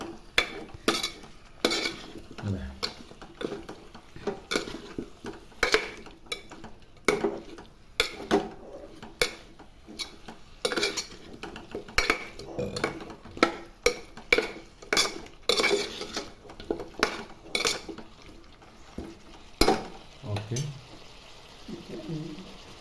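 A metal spoon scrapes and clanks against a pot in quick, uneven strokes, close by, with a soft sizzle underneath, as ground onion paste is mixed in.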